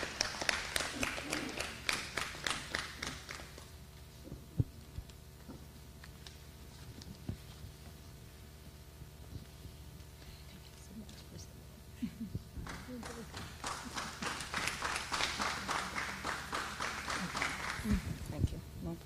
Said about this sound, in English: Please welcome with huge applause Sandra Fatmi for me.